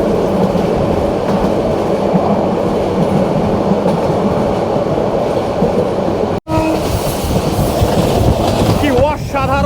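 A Sonar Bangla Express luxury train on the Dhaka to Chittagong run in Bangladesh, heard from inside a carriage: a loud, steady rolling rumble with wheel clatter, one sudden brief dropout partway through and faint squealing tones near the end.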